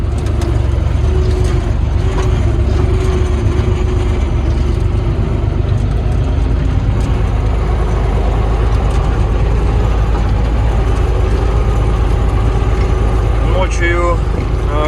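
An MTZ-82 tractor engine runs in a field at evening before ploughing, a loud constant low rumble with no pauses, while a voice talks over it.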